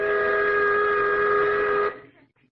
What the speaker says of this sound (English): That whistle almost blew my brains out.